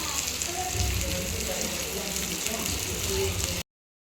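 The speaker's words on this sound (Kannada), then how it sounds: "ಇವಾಗ ಫಿಶ್ ಫ್ರೈ ಮಾಡ್ತಾ ಇದ್ದೀವಿ." Fish fries in a pan of oil at home while a Sunday mutton biryani meal is prepared, giving a steady, dense, rain-like sizzle close by that cuts off abruptly.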